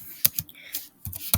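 Keys tapped on a Chromebook keyboard in a short burst of separate, close clicks with small gaps between strokes, heard alone with no talk.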